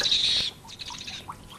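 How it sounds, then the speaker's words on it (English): A brief high, harsh shriek like an owl's opens the moment, then fades into a few softer chirps and rustles. "It was the owl that shrieked."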